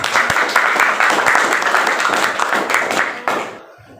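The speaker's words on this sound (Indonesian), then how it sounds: "Tepuk tangan untuk semua." Classroom group applauding together, a few seconds of brisk, fairly close clapping that ends abruptly and leaves quiet room tone.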